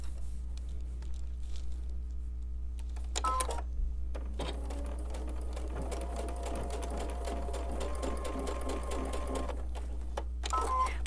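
A sewing machine stitches quilt pieces in short, fairly quiet bursts of rapid ticking over a constant low hum, with pauses between runs and brief fabric handling noises.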